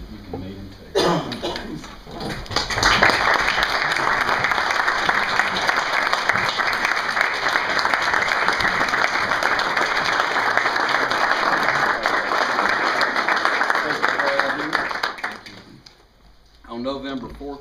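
An audience applauds at a hero award ceremony honoring a firefighter, sustained, loud clapping that swells in and holds steady for about twelve seconds before fading, with a few voices at the edges.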